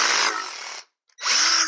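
A power drill whines loudly as it bores into a soft, stretchy silicone torso, cutting out briefly before revving up again.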